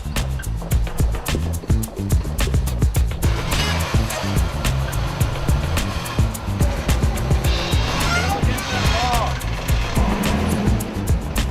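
A 4x4 vehicle crawls over a rocky trail of sharp shale 'razor rocks' in an old mining area, engine droning steadily while tires crunch, clatter and knock over stones in uneven bursts.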